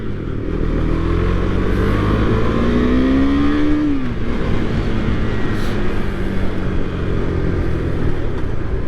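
A 2023 KTM 390 Duke motorcycle engine roars steadily up close, its pitch climbing as it revs and then dropping back, with no talking.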